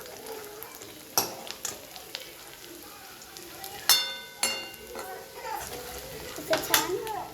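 Chicken biryani ingredients sizzle and fry in a pan as a utensil stirs them, with sharp scraping clinks over a steady frying hiss; children's voices sound faintly in the background.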